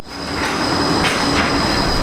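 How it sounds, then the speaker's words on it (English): A Brisbane-area tram passes on its rails close by, a loud steady rumble with high wheel squeal and brief hissing swells, running the whole time with no talk. "That was my tram that I just missed."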